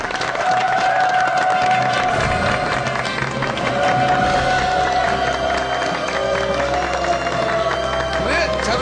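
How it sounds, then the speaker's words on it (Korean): A studio audience on a Korean TV health talk show applauds and cheers to welcome three guest doctors, a loud, steady wash of clapping lasting throughout, with a sustained melodic tone running beneath it. "박수로 환영해 주십시오."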